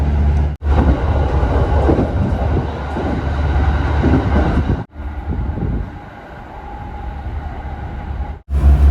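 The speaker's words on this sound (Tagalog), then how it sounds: "Nag-emergency stop yung train na sinakyan namin." Passenger train in Japan heading toward Toyohashi during an emergency stop, heard from inside the carriage: loud continuous rumble and rolling wheel noise with brief dropouts, fading to a quieter hum as it slows, no talk.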